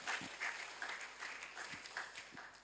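A church congregation at a Thursday service applauds, a soft, fairly distant spread of clapping with a few sharper individual claps standing out.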